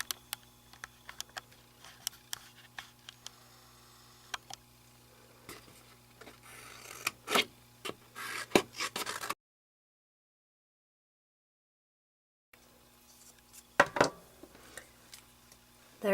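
Scissors cut out a small colored paper house, giving sparse, close snips and crisp paper rustles that grow busier, then break off into silence before a few more cuts.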